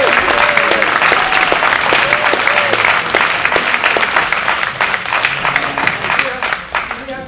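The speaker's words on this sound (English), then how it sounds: "Let's have one final round of applause for our 3 political stars." Loud, sustained applause from a club meeting audience of the Laguna Woods Democrats, dense clapping that fills the room for several seconds and tapers slightly toward the end, with faint voices or tones mixed in.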